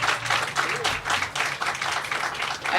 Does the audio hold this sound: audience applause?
yes